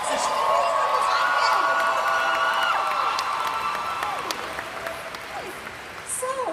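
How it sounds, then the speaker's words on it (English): Applause from a convention panel audience at Anime Expo 2015, a dense wash of clapping and cheering that swells early and then slowly fades, with a few whoops and a voice cutting through on top. "Let's give them all a big round of applause."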